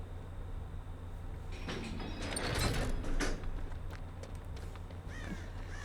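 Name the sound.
exit door being opened in Dead by Daylight video game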